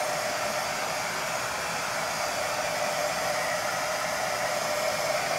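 A hair dryer runs steadily and loudly at close range, giving an unbroken broadband whoosh with no pauses or voices throughout.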